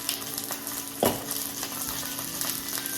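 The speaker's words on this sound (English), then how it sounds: "I'm going to finish it with the skin side down so that skin will get nice and crispy" Salmon fillet frying skin side down in a hot pan, a dense, steady sizzle with a soft scrape of a utensil partway through, close and continuous with no talking.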